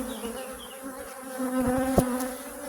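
Dense buzzing of an aggressive honeybee colony at an open hive, many bees humming close and steady, with a few louder passes flying near.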